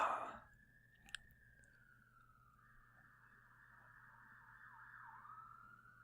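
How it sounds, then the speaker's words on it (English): Emergency vehicle siren wailing outside, a steady rising-and-falling tone that starts near and drifts off, fading slightly then swelling again as it passes, with a sharp click early on and no talking. "There's just going to be sirens in the episode."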